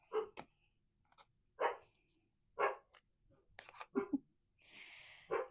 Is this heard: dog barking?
yes